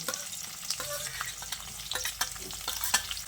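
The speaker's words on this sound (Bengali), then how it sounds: "এখন ক্যাপসিকামগুলোকে দিয়েও পেঁয়াজের সঙ্গে আরও কিছুক্ষণ ভেজে নিতে হবে।" Chopped capsicum and onion fry in a pan with a busy, crackling sizzle, broken by frequent stirring scrapes and pops at close range.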